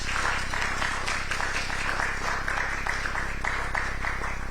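Sustained audience applause at a public forum on media and democracy in Ghana, a dense steady wash of many hands clapping at even loudness throughout, with no speech.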